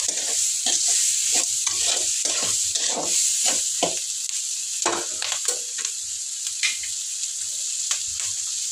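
Small-cut chopped vegetables frying in hot oil and being stirred in a pan, a loud continuous sizzle with rhythmic scraping and tossing strokes of a spoon, close up with no talking.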